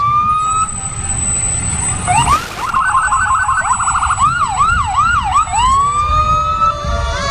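Fire department vehicles in a parade sound their sirens: a wailing tone gives way to a fast yelp, then rising and falling whoops over a low engine rumble, loud and near.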